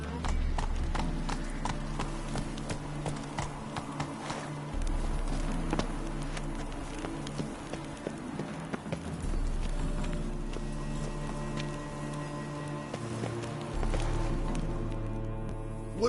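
Roach the horse trotting in The Witcher 3, hooves clip-clopping in a quick, even rhythm close by, running under a continuous game music bed with occasional spoken lines.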